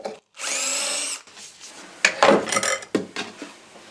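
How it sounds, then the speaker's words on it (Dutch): A power drill with a 5 mm bit whirs in one short burst for under a second, followed by clattering and knocking of tools and material being handled nearby. "even hier met een boordje van 5 even boor"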